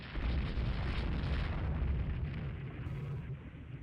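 A shell hit on the French battleship Sully in the naval video game Rule the Waves 2, a single loud, rumbling explosion with a long roaring decay.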